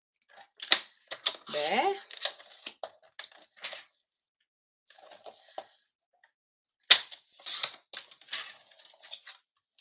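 Paper being cut for a layer on a handmade stamping card: sharp clicks and snips arrive in short bursts, with pauses between them, close and moderately loud, and a voice speaks briefly among the cuts.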